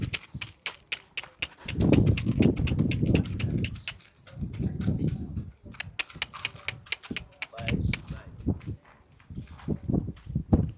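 A mare's hooves clip-clop in a steady, fairly close walking rhythm, with people talking over and between the hoofbeats.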